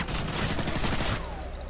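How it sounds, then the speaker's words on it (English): Sustained burst of automatic gunfire in Call of Duty: Modern Warfare 3, loud and close for about a second, then cutting off into a quieter rumbling tail with a faint descending whistle. "I just shot."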